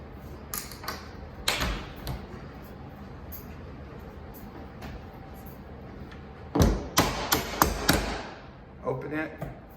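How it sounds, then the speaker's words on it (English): A door hinge pin on a door that keeps closing on its own is struck with a hammer in a few sharp, close metallic taps, a couple early and then a quick cluster of louder blows, with quiet room sound between. "then we're gonna hammer it right about here"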